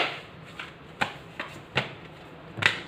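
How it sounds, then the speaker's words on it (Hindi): Tarot cards shuffled and drawn from a deck, a few soft riffles and flicks close by, quiet and sparse. "एक कार्ड और निकालेंगे इस डेक से"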